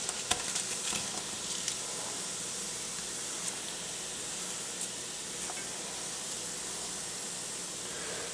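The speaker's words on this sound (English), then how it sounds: "so to this we are going to now add in our sliced onions." Sliced onions sizzle in a pan while cooking down for Salisbury steak. A steady, close frying hiss runs throughout, with a few faint clicks and stirring touches near the start.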